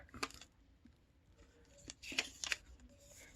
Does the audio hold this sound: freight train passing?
no